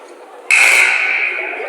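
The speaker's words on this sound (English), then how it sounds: "Buzzer sounds." A loud electronic buzzer blares at a junior high girls' basketball game, starting abruptly and holding a steady bright tone for over a second in the gym.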